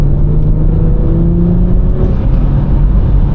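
A 2019 BMW 440i Gran Coupe, lowered, accelerates hard out of a corner, its engine a loud, steady drone with rising tones heard from inside the car, with no talking.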